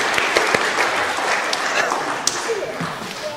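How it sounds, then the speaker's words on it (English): Congregation applauding during a sermon at Christ Church High Harrogate, a broad steady round of clapping filling the church, with a few louder claps and faint voices mixed in. "Got a round of applause."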